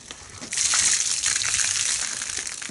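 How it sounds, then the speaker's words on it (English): A car wash mitt full of water is scrubbed against a bucket grit guard, a loud close gushing, sloshing rush that starts abruptly and continues with splashy scraping. "I'm going to actually take this water out, scrub it against the grit guard again"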